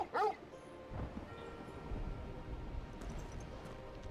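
Torgal the dog in Final Fantasy XVI gives a short, high whimpering yip at the start, followed by softer low snuffling against quiet background sound.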